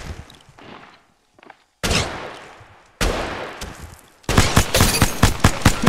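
Bursts of automatic gunfire from weapons in the Apex Legends Mobile battle royale game, several separate volleys growing louder and denser, ending in rapid repeated shots.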